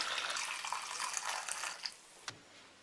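Boiling water, 1.5 litres, pours into a pot in a steady splashing stream for about two seconds, then tapers off with a small clink near the end.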